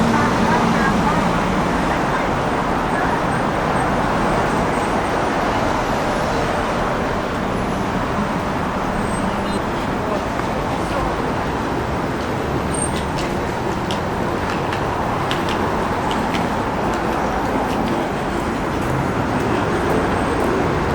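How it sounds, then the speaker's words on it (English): Steady, dense street traffic on Nevsky Prospect in Saint Petersburg, with a trolley bus among the passing vehicles, a continuous loud roar of engines and tyres with a faint murmur of pedestrians throughout. "Typical trolley bus"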